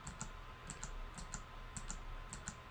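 Computer mouse clicks while picking colors in Photoshop, a steady run of light, close, paired clicks at an even pace over faint room noise, with no talking.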